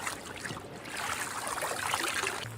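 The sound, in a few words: Coker Creek flowing water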